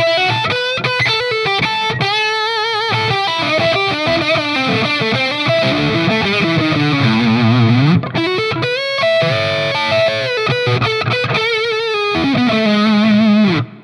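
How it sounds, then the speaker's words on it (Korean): Cort KX500 Etched electric guitar with Fishman pickups, played through distortion on the middle pickup position: a fluid, sustained lead solo with bends and rapid runs, loud and upfront with no talking. "미들 포지션에 놓고 이제 솔로를 치면 되게 톤 자체가 되게 꽁냥꽁냥해지고 살짝 이제 코맹맹이 소리 나는데"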